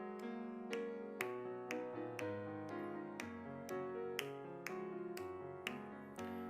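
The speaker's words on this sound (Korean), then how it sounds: "우리 박수하면서 찬송하겠습니다." A church congregation claps in steady rhythm while a hymn is played on keyboard at an early-morning prayer service, with crisp, evenly spaced claps over sustained chords, all fairly quiet.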